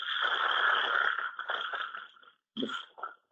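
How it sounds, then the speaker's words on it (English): Frogs croak near Hyderabad airport in a bursty, raspy chorus, loud and close, with a brief pause before a final short burst of calls. "the croaking frogs and"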